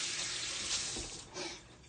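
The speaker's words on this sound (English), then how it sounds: "And I'm going to wash my hands." Water runs steadily from a tap as hands are washed beneath it, a continuous broadband splash with small shifts where the hands move through the stream, fairly close, with no talking.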